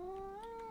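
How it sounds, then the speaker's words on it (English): A pet cat gives one short, faint, rising-and-falling meow, alone and with no talk around it. "Ignore my cat."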